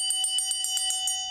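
A hand bell carried on ghost-hunting nights is rung in quick repeated strokes, about ten bright ringing clangs with a sustained metallic tone, close and clear with no talk.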